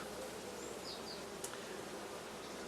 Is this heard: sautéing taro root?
no